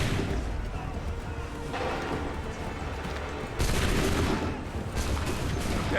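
A musket volley fires in Assassin's Creed 3, a dense, booming crash of many guns roaring together, followed by a second loud burst partway through. The rumble is continuous and heavy, and some shouting may sit beneath it.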